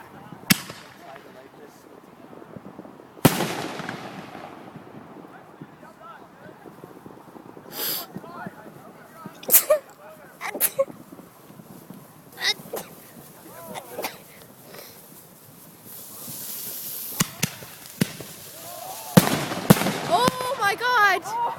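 Fireworks misfiring outdoors, with several sharp cracks and bangs scattered irregularly across the scene and fizzing bursts between them, while people talk and react nearby.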